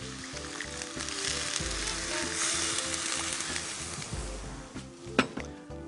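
Tea is poured into a simmering pot of black bean soup, producing a rhythmic, bubbling sizzle with low surging pulses, then a few sharp metallic clinks near the end.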